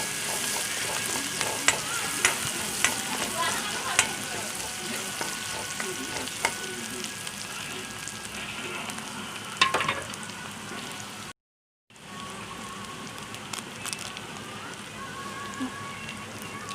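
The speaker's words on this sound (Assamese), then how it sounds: "পিঁয়াজখিনি মই এতিয়া অলপ লৰাই লৈছোঁ" Onions being stirred and fried in a pan, a close crackling sizzle with scattered spatula scrapes and taps, briefly cut to silence for a moment before the frying resumes.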